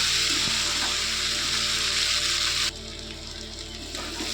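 Paneer cubes frying in hot oil give a steady, close sizzle with dense crackle that drops noticeably quieter partway through, continuing softly to the end.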